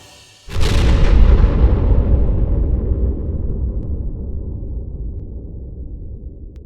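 A single huge explosion erupts after a brief quiet start, a loud deep boom that rumbles on and slowly fades over several seconds.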